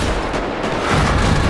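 Sustained gunfire in the GTA 5 video game, a dense rattling barrage of shots that keeps going without pause and grows slightly louder toward the end.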